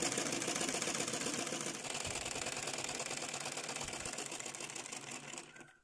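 A sewing machine stitches fabric for a homemade scrunchie hair band, a steady fast mechanical whirring and clatter running close and loud for about five seconds before slowing and stopping at the end.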